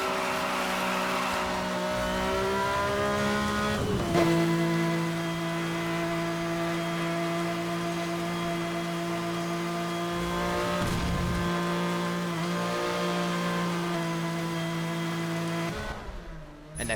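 A Porsche racing in Need for Speed Hot Pursuit Remastered, its engine whining at sustained high revs with brief shifts and tyre squeals, loud and continuous, with no talking.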